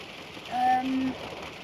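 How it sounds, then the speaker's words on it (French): Faint, steady patter of rain in the background, with a brief soft tonal hum rising briefly in the middle. "le bruit de pluie que vous entendez ou d'orage, c'est normal"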